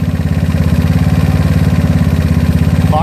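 A GY6 scooter engine fitted with an OKO PWK 30mm carburetor idles steadily, a loud, close, rhythmic putter with an even pulse and no voices.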